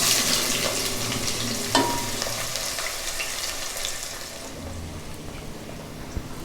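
Fenugreek, cumin and mustard seeds crackle in hot oil with onions for an egg and brinjal pulusu, a continuous moderate frying sizzle broken by a couple of sharp pops and stirring clinks.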